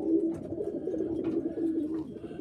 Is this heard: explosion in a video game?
no